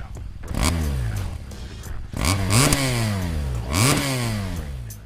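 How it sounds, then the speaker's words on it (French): The boxer engine of a 2014 BMW R 1200 GS Adventure motorcycle revs repeatedly, its deep throbbing pitch rising and falling in three surges, close and loud throughout. "La sonorité moteur reste très présente avec son poum poum caractéristique."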